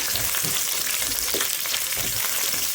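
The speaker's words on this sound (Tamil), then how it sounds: "இப்போது எண்ணெயில் வதக்கலாம்." Garlic and tamarind sautéing in hot oil for a Tamil greens gravy, giving a steady close sizzle and crackle with faint stirring and no voices.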